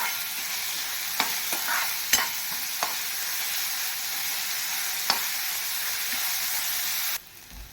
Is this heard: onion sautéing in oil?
yes